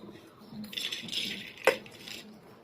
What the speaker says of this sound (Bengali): একটা কুকার নিয়ে নিয়েছি ডালগুলো দিয়ে দেবো